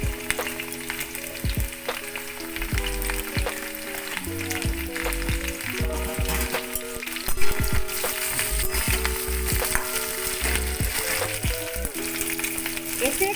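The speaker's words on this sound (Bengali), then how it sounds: "একটু ভাজা ভাজা হয়ে গেছে, এতে আর একটু সৈন্দব লবণ দিলাম" Sliced radish frying in a pan gives a steady close sizzle, with repeated stirring and scraping clatters throughout.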